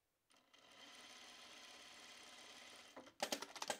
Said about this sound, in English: I'm gonna edge stitch.